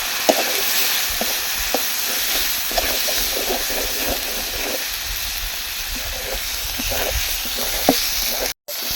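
Chili powder and a few green chilies fry in hot oil with a steady sizzle and hiss, while a spoon scrapes and stirs the pan in repeated clicks and taps, close and continuous.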